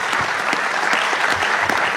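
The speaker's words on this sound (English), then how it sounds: "Let's give him a big round of applause" Town hall audience in Astoria, Oregon breaks into steady, dense applause, many hands clapping together at close range without pause.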